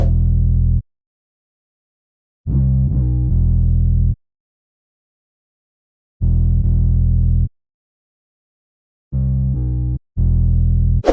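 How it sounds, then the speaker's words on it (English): Deep, long Ice Digger Mannequin 808 bass notes from a NY drill beat, played alone in separated bursts with gaps of silence, loud, sustained and slightly distorted. "This is the 808, and the sample I use for this is a Ice Digger Mannequin 808."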